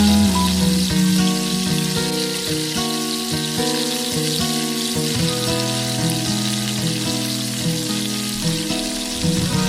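Garlic fries lightly in a pan with a steady, even sizzle that runs under continuous background music.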